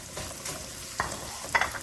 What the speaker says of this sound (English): Let it saute a little bit